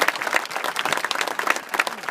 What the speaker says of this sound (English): you can clap. That's good.